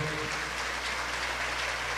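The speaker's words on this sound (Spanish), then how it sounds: "Dele un aplauso al Señor" A church congregation claps for the Lord, a soft, even wash of many hands heard from a distance, with a low steady hum beneath it and no break.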